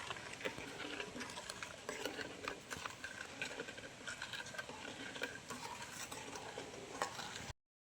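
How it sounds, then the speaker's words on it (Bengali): Raw mango jam being stirred with sugar in a pan over high flame, a busy, rapid scraping and rattling texture that runs steadily and close for several seconds before cutting off abruptly. "এইভাবে কিছুক্ষণ খুব ভালো করে নেড়ে চেড়ে নেবো যাতে চিনিটা গলে যায়।"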